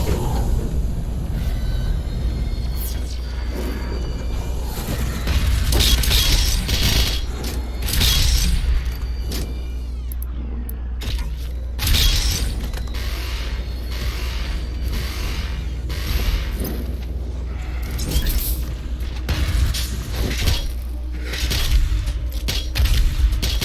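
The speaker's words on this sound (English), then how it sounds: "Gotta go ahead and activate the individual cannon so I can do... get the tentacles off that turret there" Heavy cannon in Doom Eternal being activated and fired, with loud booms, mechanical clanks and creaks over a deep constant rumble, firing repeatedly in a sustained barrage.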